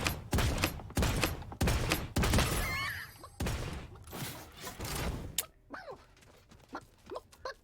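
Rapid bursts of video game gunfire, a string of loud sharp shots in quick succession at first, then fainter scattered pops and clatter toward the end.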